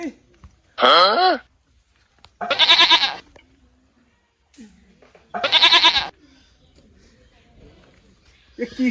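A goat bleats three times, loud and close, each wavering cry separated by a couple of seconds of near silence.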